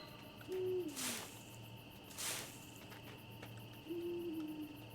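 Two soft, falling owl hoots from the video game Endling, several seconds apart, over a quiet bed of chirping crickets, with a couple of brief rustling bursts in between.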